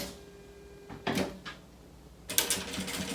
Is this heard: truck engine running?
no